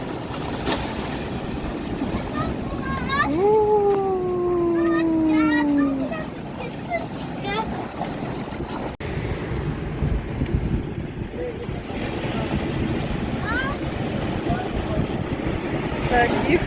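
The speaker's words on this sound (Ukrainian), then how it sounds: "хвилі гарні" Sea waves break on the shore near Treen Farm Campsite on the Cornish coast, a steady broadband wash of surf and wind that runs through the whole stretch, with people talking and one long drawn-out vocal call over it.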